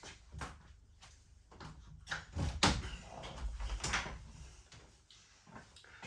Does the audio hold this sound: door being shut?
yes